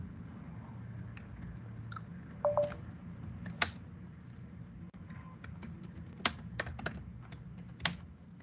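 Keys on a computer keyboard are typed in a quiet room to enter a password, sparse irregular clicks and taps with a few louder strokes, close and alone over a low background hum.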